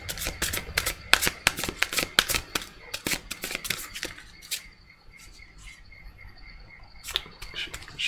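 Tarot cards are shuffled close by in a rapid burst of crisp riffling snaps that thins out and then briefly returns, with a faint high chirping in the background.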